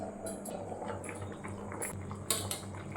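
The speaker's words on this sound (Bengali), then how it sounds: "ঝোলটা ফুটতে শুরু করেছে" Chicken and potato curry gravy bubbling in a covered pot, a steady soft simmer with faint lid and utensil clinks, no voices.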